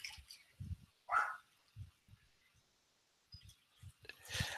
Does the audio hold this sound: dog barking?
yes